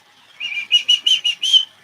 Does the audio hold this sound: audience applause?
no